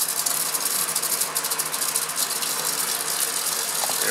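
Laboratory aspirator pump pulling vacuum for filtration, a loud steady rattling hiss with a fast ratchet-like chatter, running unbroken and close up.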